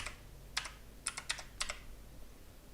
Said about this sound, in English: let me just type in an index